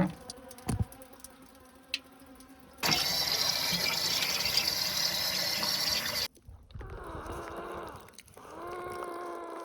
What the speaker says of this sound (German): Hier sind natürlich 1000 Wespen